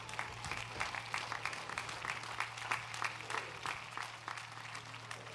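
Sustained applause from an audience at a live Midsummer Spectacular show, many hands clapping steadily at moderate distance, with a low hum in the background.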